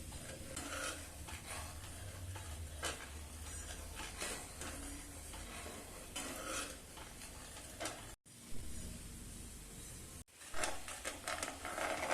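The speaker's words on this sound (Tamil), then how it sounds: "நம்மளுடைய பாகு வந்து நல்லா கொதிச்சிடுச்சு" Sugar syrup for sesame balls bubbling and boiling in a pan, a steady soft seething with occasional stirring scrapes, close by and fairly quiet, with no voices.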